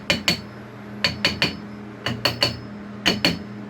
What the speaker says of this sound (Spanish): Le vamos dando pequeños golpes en ambos extremos hasta que la bomba cierre completamente.